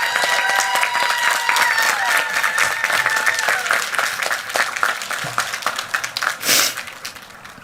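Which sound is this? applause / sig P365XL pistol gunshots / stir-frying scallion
applause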